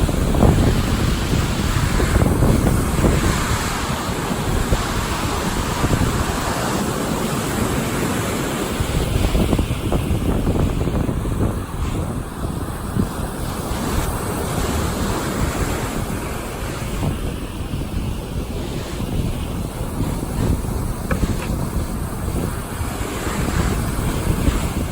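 Strong wind buffets the microphone on an open beach while surf rolls and crashes nearby, a constant loud roar with gusty low rumbles and no talking.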